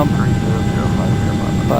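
A Carenado Hawker 850XP business jet in a flight simulator gives a steady, loud engine roar throughout, with no pauses, while the pilot eases back the power on approach.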